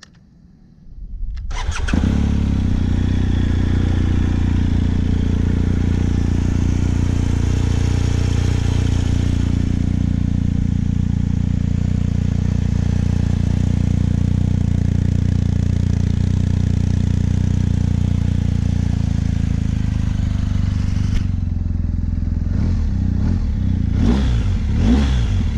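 A BMW GS 1250 motorcycle engine cranks and fires, then settles into a loud, steady idle close to the microphone, with a few sharp revs near the end.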